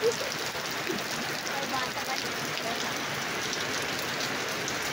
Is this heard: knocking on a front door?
no